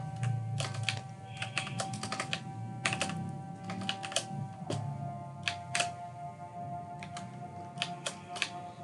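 Fingers typing C++ code on a computer keyboard, with irregular clusters of close, crisp key clicks and occasional louder taps over a faint steady hum.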